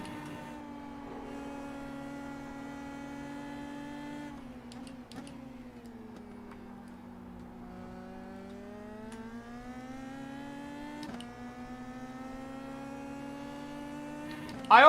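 An Indy Pro 2000 open-wheel race car engine in the iRacing simulator at Phillip Island, a steady droning engine note that shifts gradually in pitch with brief gear-change breaks, fairly quiet and continuous.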